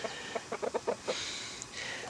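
Hens in a garden chicken coop cluck in a quick run of short, soft, close clucks followed by quieter rustling.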